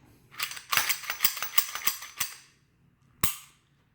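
Beretta APX pistol being safety checked, with a fast series of sharp metallic clicks and slide racks close up, then a pause and one final crisp snap.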